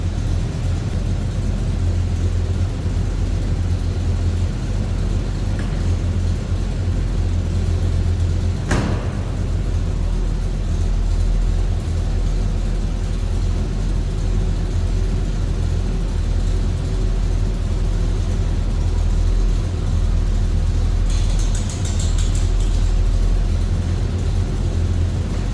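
A 1972 Chevrolet Chevelle Malibu convertible driving, a steady low engine drone with road and wind rumble, loud and continuous, with one brief sharp knock partway through.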